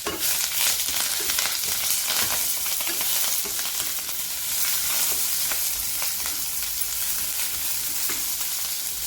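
Onion and curry leaves fry in a pan with dried coconut, making a loud, close, unbroken sizzle with faint crackles and stirring throughout.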